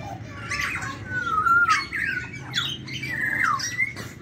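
Parrots at a zoo give a run of loud, harsh squawks and rising screeches, several overlapping calls from close by over a steady crowd murmur.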